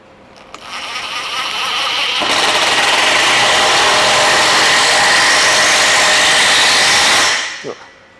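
A Ryobi Kyocera BID-10XR impact driver spins up in high mode for several seconds, a steady loud whirring buzz that starts abruptly, holds, then cuts off, with no hammering impacts.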